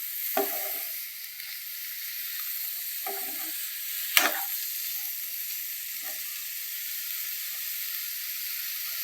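Bitter gourd (kakarakaya) fries in a pan over low heat, giving a steady, even sizzle and hiss throughout, with a few brief spatula scrapes and stirs cutting in close by.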